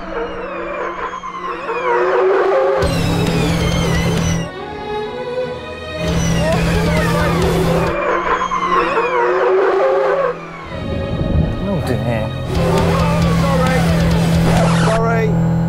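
An Audi RS Q e-tron without ABS brakes hard in an emergency stop during a drag race against an Audi R8. Loud, sustained tire screeches and skids repeat in long bursts under a steady engine and wind roar, with talking over it.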